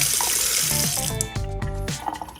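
A household tap in an empty, clean house is left running, giving a continuous loud gush of water with humming plumbing tones underneath, no voices.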